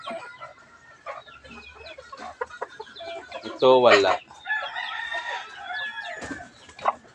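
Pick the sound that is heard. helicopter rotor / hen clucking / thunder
hen clucking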